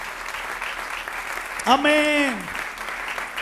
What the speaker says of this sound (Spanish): Den un aplauso a Jesús.